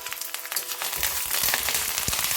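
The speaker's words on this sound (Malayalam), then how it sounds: "ഉള്ളി മുളകെല്ലാം മൂത്ത് ഇനി അതിലേക്ക് കുറച്ച് കറിവേപ്പിലയും കൂടെ നമുക്ക് ഇട്ട് കൊടുക്കാം" Onion, dried red chilies and curry leaves frying in hot oil for a pumpkin and toor dal curry, a steady crackling sizzle with bursts of popping, close and fairly loud with no talking.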